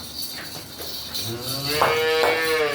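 A buffalo on a dairy farm moos close by, a couple of low drawn-out calls building toward the end over soft barn ambience and a faint steady whine.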